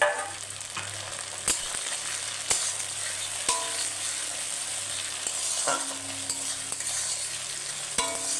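Onion, chopped tomato and green chilli frying in a pan, an even sizzle broken by regular sharp clicks of a spatula against the pan about once a second, with no one talking.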